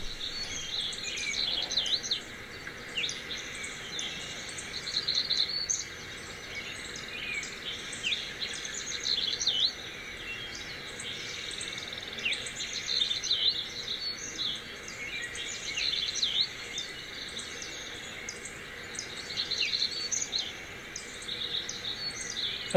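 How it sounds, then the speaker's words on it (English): Recorded forest birdsong plays from a HomePod Mini smart speaker, with continuous overlapping high chirps and trills over a soft steady ambient hiss, no voices. "play the sounds of birds"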